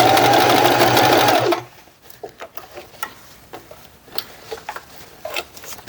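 A sewing machine stitches a tote bag in a steady fast whir for about a second and a half, then stops, leaving soft rustling and handling noises.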